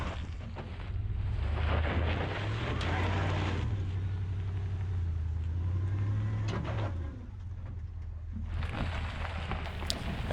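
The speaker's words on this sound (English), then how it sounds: "the truck did struggle a little bit more to climb this hill" A 2020 Ford F-250 with the 7.3 gas engine labors up an off-road hill in snow and sand mode, a deep steady engine drone rising and holding, with wind buffeting the microphone and some rough scrabbling noise.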